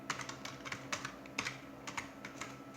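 A password is typed on a computer keyboard with a steady run of light, close key taps at an even pace, quiet and alone.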